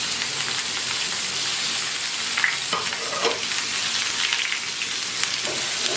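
Onion, tomato and green chili fry in oil in a pan, giving a dense, steady crackling sizzle with some stirring scrapes, close and moderately loud, with no voices.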